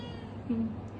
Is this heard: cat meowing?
yes